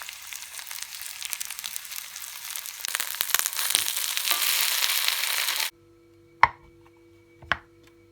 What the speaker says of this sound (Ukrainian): Смажити тепер буду на середньому вогні, обов'язково під кришкою.